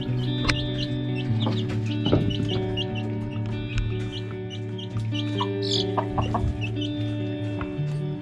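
Several chickens cluck and chatter nearby, a busy overlapping stream of short clucks with occasional higher calls, no talking.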